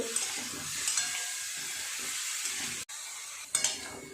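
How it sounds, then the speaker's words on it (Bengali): Spices and vegetables sautéing in a pan for a tangra fish curry, with a steady close sizzle and repeated stirring scrapes, a brief dropout near the end, then the sizzle flaring up again. "খুব ভালো করে সমস্ত সবজির সাথে মশলাটা একটু কষিয়ে নেব"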